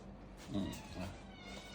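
A cat meows in an iPhone cat-stacking game from 2007, a soft, faint, drawn-out mew heard once or twice over a low hum.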